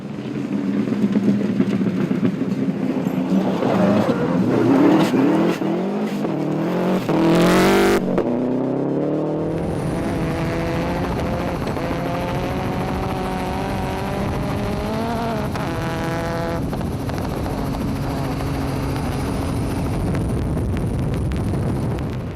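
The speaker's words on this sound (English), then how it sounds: "On to Saturday's gravel runs, Heinz out fast and into the service with an 18-second gap to Stone" Rally car on a gravel forest stage, engine revving hard and climbing through gears as it passes close, then a steady roaring drone continues as the car pulls away, loud throughout with no talk.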